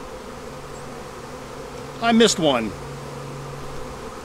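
Honeybees drone steadily around a hive that has swarmed after a failed Demaree split. The low, continuous hum runs throughout, with a brief spoken remark over it midway.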